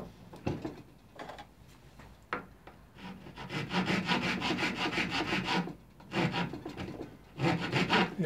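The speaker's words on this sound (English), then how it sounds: "I think I'm going to have a go at this with the rough rasp and see how we go on" A rough rasp shapes a plywood crook in repeated close, scratchy strokes, some short and some long and sustained, with brief pauses between passes.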